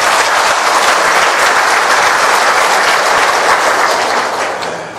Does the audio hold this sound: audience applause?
yes